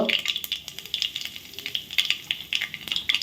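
Mustard seeds, cumin and asafoetida crackle and sizzle in hot oil for a spiced semolina breakfast dish, a steady hiss broken by rapid, irregular popping bursts close up, with no talking.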